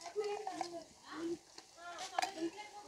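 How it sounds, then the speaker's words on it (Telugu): Ginger garlic paste fries with chicken in a pot for dum biryani, giving a steady sizzle and bubbling with occasional stirring clinks, while someone talks over it. "అల్లం వెల్లుల్లి పేస్ట్ ఇదో ఇలా పచ్చివాసన పోయేంత వరకు వేయించుకోవాలండి."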